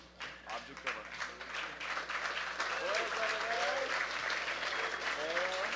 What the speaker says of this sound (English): take a quick round of applause